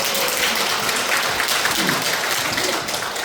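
An audience at a women's college humanities lecture gives dense, continuous applause that stays fairly loud and even throughout.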